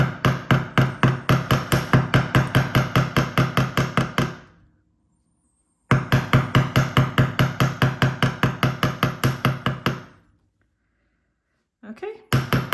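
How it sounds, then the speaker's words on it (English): Rapid, even metallic hammer taps flattening jewellery wire for herringbone earrings, in two long bursts separated by a brief silence, with another short burst starting at the end. "if you do a sweeping motion whilst you're hammering, you won't flatten it too much"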